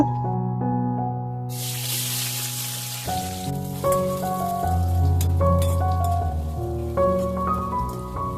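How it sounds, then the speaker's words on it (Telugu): Onions fry in hot oil in a pan for gongura boti pulao, a steady close sizzle with a loud burst of hissing spatter midway, under sustained musical tones. "ఆయిల్ బాగా హీట్ అయిన తర్వాత ఆనియన్స్ కూడా బాగా ఫ్రై చేసుకోవాలి బ్రౌన్ కలర్ వచ్చిన దాకైతే"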